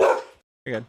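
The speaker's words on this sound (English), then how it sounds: "Pardon my dog barking." A dog barks twice indoors, close and fairly loud, with a short gap between the sharp woofs, while a person speaks briefly.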